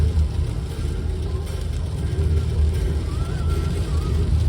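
Inside a moving Ford Crown Victoria, a steady low engine and road rumble carries on at a constant level throughout, with no clear acceleration or voices.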